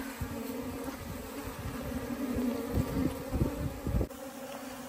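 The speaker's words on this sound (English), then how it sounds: "Still looking for the queen, but the bees are going crazy." Honeybees swarming in agitation as robbing breaks out while a hive is relocated in southern Arizona, a dense, loud, continuous buzz close by with individual bees zipping past, no talking.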